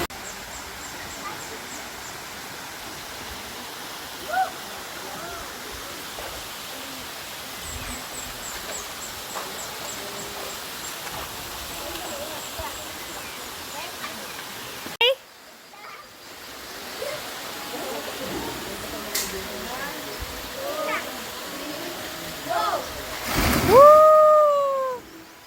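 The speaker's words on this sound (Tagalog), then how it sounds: "running water talaga siya" Clear, cold river water runs steadily with a soft continuous rush, small splashes and trickles scattered through it, and a brief louder disturbance near the end.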